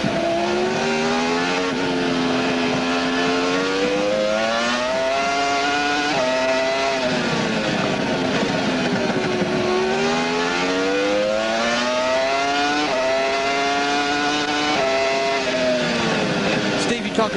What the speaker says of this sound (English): Just watch Jeff Gordon's head when he gets on the brake, go forward, and watch it kick back on acceleration